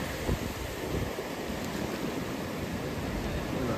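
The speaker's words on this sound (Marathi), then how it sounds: "कॅम्पसाईटच्या बाजूलाच आहे ही नदी" Cold, muddy glacial river from the Himalaya rushing beside a campsite on the way from Chitkul to Kalpa, a steady broadband roar of flowing water with no voices.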